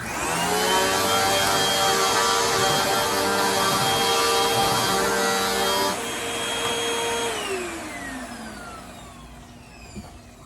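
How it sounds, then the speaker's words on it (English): A vacuum cleaner cleaning a table runs loudly with a high whine, shifts pitch midway, then winds down as the motor spins to a stop. "So let's try the vacuum."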